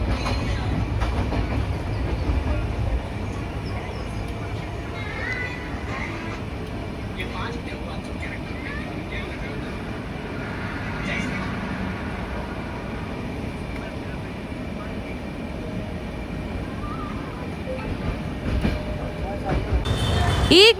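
A Vande Bharat Express running from KSR Bengaluru to Dharwad passes at high speed, a loud continuous rail roar with rhythmic wheel clatter that persists throughout and swells near the end.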